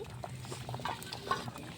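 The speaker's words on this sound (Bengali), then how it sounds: "এই দেখো গাইস কত ফুটতেছে কিরকম" Khichuri boils in a pot at a picnic, making soft, irregular bubbling and popping close by. It is a brief, fairly quiet burst with no one speaking.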